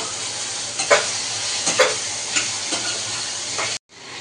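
Turmeric and cumin powder sauté in hot oil with a bright, constant sizzle, punctuated by a few sharp stirring scrapes of a spoon in the pan, close up; the sound cuts off abruptly near the end.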